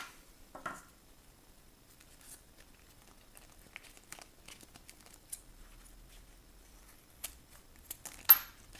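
Scissors snip open packaging holding airsoft G39C N-Pass and charging handle parts, with a few faint, sparse clicks and crinkles in a quiet room and no talking.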